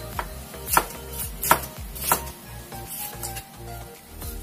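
A knife chops jicama on a cutting board in a home kitchen, four or five crisp sharp strikes spaced at an uneven rhythm, close and clear with no talking.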